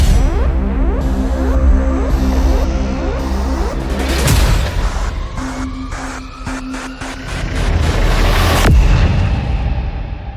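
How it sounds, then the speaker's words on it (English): Loud, booming bangs from a remote-operated gunshot replicator used for emergency response training ring out repeatedly, each followed by a metallic, echoing decay, layered over dense rumbling in an open space. "gunSHOT Box, a remote-operated gunshot replicator used for emergency response training"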